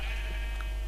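A Minecraft sheep gives a single short bleat, loud and close over a steady low game background hum.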